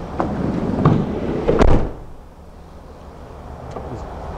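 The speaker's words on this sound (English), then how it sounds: "So we'll close the doors" The doors of a 2017 Mercedes Sprinter van, a Grech conversion, shut with a couple of solid thuds and a rattle, close by, then a quieter mechanical whir follows as things settle.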